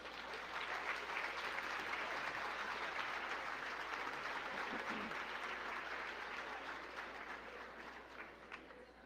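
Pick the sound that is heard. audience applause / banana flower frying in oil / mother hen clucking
audience applause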